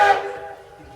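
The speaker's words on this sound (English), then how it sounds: "the whistle signals from the train, they are prescribed by the Federal Railway Administration" Virginia & Truckee Railroad steam train whistle, one short blast that starts loud and tails off quickly into a ringing fade, heard alone with faint rumble beneath.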